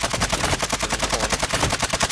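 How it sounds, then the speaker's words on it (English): Rapid automatic gunfire in Call of Duty Warzone 2 pounds out as a steady, fast stream of loud shots with no break, and almost no talking. "they shooting across from the cross street"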